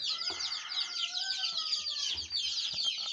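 Several Naked Neck chicks, black-and-white spotted, peep close by in a dense, continuous chorus of high-pitched chirps, with a few soft knocks underneath.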